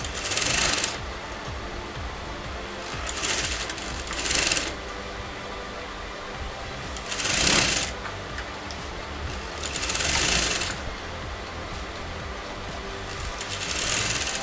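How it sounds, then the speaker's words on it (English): A sewing machine stitches piping onto the right side of fabric for puff sleeves. It runs close by in several short, even bursts with brief pauses between them, and no voices are heard. "So I'm sewing to the pretty side of the fabric."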